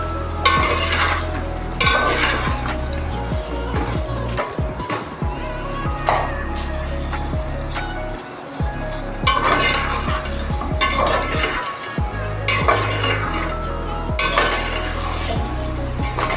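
Potatoes frying in masala in a pan for a Karachi-style aloo palak, with a continuous sizzle and repeated scraping, clinking stirs of a metal spoon against the pot, close and loud.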